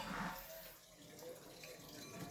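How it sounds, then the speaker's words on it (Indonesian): Palm fiber filter material from a murky well-water filter is washed by hand, with steady running and splashing water close by under a faint background voice. "Injuknya saya cuci"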